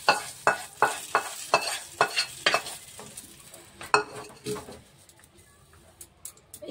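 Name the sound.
kasuri methi frying in oil in a pan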